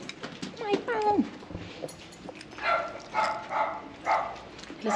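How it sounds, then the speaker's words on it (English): A dog barks in short bursts indoors, several separate yaps spaced across the moment, while people talk nearby in the room. "Listen, I get a dog in here."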